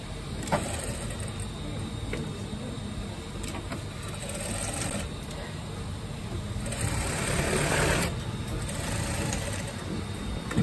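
A sewing machine stitches a double welt pocket on a jacket, running in a continuous close mechanical whir that swells slightly in the second half.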